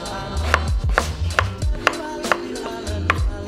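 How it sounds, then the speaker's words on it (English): Carrots cut into thin batons with a knife for a stir fry, close and crisp: a steady run of about seven sharp chops on a board, evenly spaced, with soft handling noise between strokes and no voices. "what you want to do is cut your carrots into batons"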